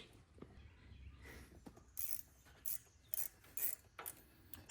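Socket wrench ratchet working a flange bolt on a lawn mower, a short series of quiet clicking ratchet bursts in an irregular rhythm, heard close with faint background outdoors.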